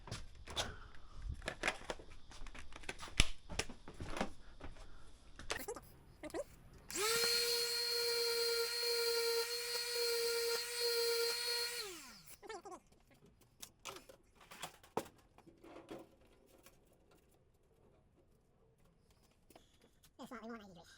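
A power sander roughing out a plastic repair on a scooter or motorcycle panel, running as a loud steady whine for about five seconds, then spinning down, with scraping and handling noises before and after.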